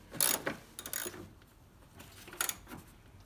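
A ratchet loosening a crankshaft or camshaft sensor bolt on a 2001 Jeep Grand Cherokee 4.7L, giving a few short bursts of close, quiet mechanical clicking with pauses between them.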